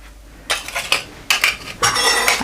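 Dry flour, baking powder, salt and sugar being mixed in a bowl with a utensil, giving three bursts of close scraping and clinking against the bowl separated by short pauses.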